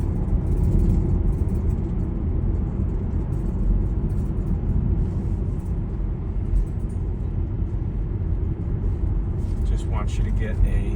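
Car driving through a residential neighborhood past a private school's sports field, a steady low road rumble and engine drone throughout, close and continuous, with faint talk over it.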